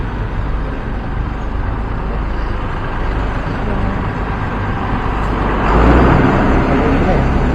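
Steady, dense road traffic rumble from cars and trucks in a slow Philippine jam, continuous and close, swelling slightly louder near the end as a heavier vehicle passes.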